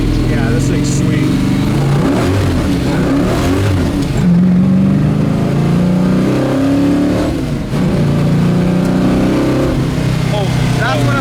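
A 1971 Chevrolet Nova with a 735 hp engine, loud and close, roaring under hard acceleration with the pitch climbing through the gears and a brief dip at a shift, while people talk over it.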